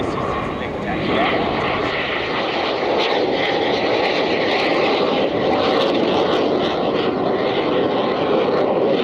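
Aermacchi MB-339 jets of the Frecce Tricolori aerobatic display team at an air show, a continuous loud roar of engines that holds steady throughout while a commentator speaks over it.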